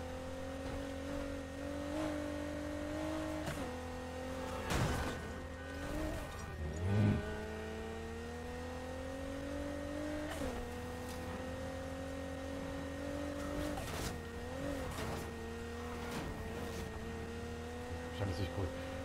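A car racing in the video game Need for Speed Heat, engine note climbing steadily through gears with repeated shifts and brief tire squeals, heard continuously at moderate level alongside a faint steady tone.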